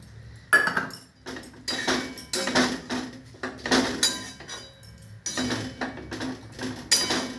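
A spice bowl is rinsed at a kitchen counter while prawns and red spinach cook, giving a string of close, irregular clinks and clatters of dishes and utensils.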